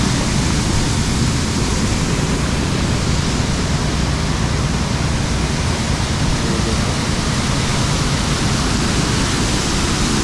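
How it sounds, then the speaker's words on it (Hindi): Water gushes with heavy force from pipes near bursting after monsoon rain in Kareri village, a loud, steady, unbroken roar that fills the whole clip. "पाइप ऑलमोस्ट फट चुके हैं नेक्स्ट लेवल पानी का"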